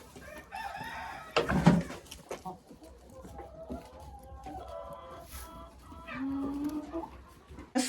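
Hens in a backyard henhouse, moving into their nests to lay eggs, cluck and call in short, uneven bursts, with a loud squawk near the start and a rooster-like crow further off.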